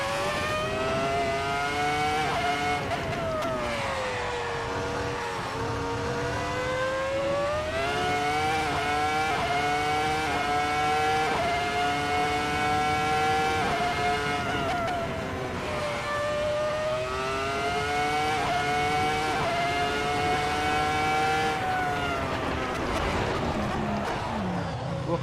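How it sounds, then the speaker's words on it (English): Race car engines roar steadily in a racing video game, with sustained high revving that rises and falls through gear changes, loud and continuous for the whole stretch with no talk. "It's all raw engine power in these cars."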